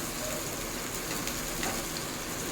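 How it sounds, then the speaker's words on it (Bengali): Onion fries in a pan while being stirred, a steady dense sizzle like fine rain that stays constant throughout, with no voices. "পেঁয়াজটা আবারও একটু নাড়িয়ে ভেজে দিচ্ছি।"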